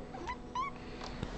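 A cat meows in a few short rising calls, close and moderately loud, with light typing or tapping noises in the background.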